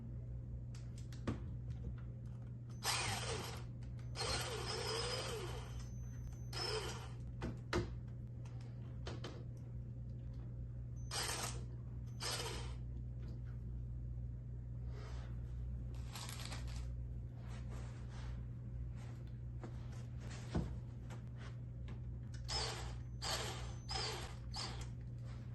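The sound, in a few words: screwing air conditioner window panel into place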